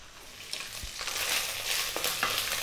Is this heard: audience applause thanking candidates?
no